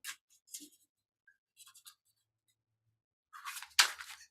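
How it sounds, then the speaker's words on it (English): A deck of cards shuffled by hand, quiet scattered riffling and scraping bursts with pauses between, ending in a louder flurry of snapping cards, with no talk. "I've got to shuffle them for us here since I've got the deck here"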